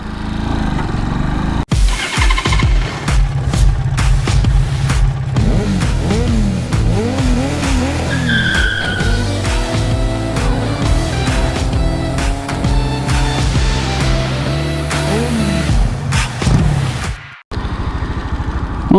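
A Cleveland CycleWerks Ace 250 single-cylinder motorcycle being ridden, its engine loud and close, revving up and down through rising and falling gear pulls with a steady buzzing note.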